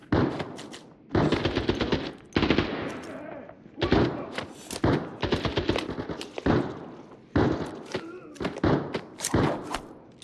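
Gunfire in the shooter game Arena Breakout Infinite, repeated loud bursts of rifle and automatic shots with sharp cracks and thuds, arriving in clusters separated by short pauses across the whole stretch.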